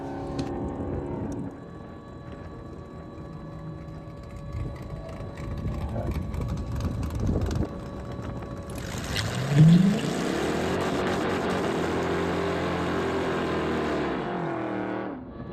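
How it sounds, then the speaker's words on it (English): A 1968 Ford Mustang drag car runs down the strip at the drags, its engine stuck in second gear and bouncing off the rev limiter near the end of the track, a loud, rising, stuttering engine roar in the final seconds. "you'll hear as we get towards the end of the track, I just start hitting the rev limiter because it's still in second gear"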